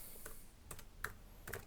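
A few sparse keystrokes tap on a computer keyboard, quiet separate clicks heard close against a faint background hum.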